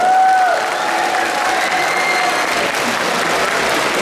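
A crowd at an outdoor charity concert in Ustroń applauds a band with loud, sustained clapping and a little cheering mixed in. A brief tone is audible at the start.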